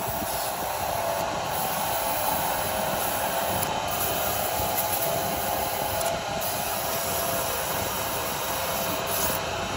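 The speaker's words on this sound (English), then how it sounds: "Well, I'll just have the vacuum here." A workshop vacuum cleaner running beside a woodturning lathe during sanding, a loud, constant, even whooshing roar with a steady high whine that lasts the whole stretch, no voices.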